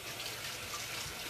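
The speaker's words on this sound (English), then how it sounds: "rinsing fingers." Fingers rinsed under a running kitchen tap, a brief steady rush of water close by.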